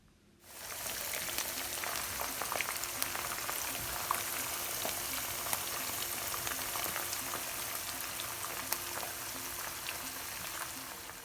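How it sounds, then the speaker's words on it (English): Beef strips deep frying in a pot of oil give a loud, continuous crackling sizzle that starts abruptly and holds steady, with scattered sharp pops and no talking. "So you want to fry them only for about 3 or 4 minutes or until they are golden"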